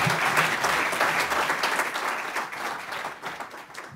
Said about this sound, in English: a big round of applause for Micheal Braungart